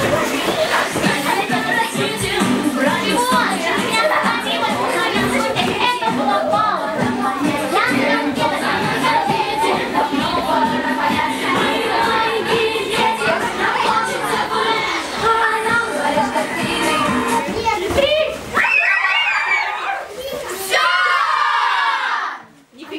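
Children at a music school anniversary party shout together during a game, a loud sustained massed roar with yells that lasts most of the clip, then breaks off into a few scattered cries and quiet.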